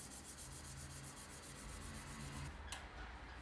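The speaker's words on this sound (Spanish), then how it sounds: "Lijamos hasta que sintamos una rebaba en la parte frontal" Rhythmic back-and-forth scraping of a steel hand plane iron rubbed on sandpaper, steady strokes for a few seconds, then a pause and a single clack.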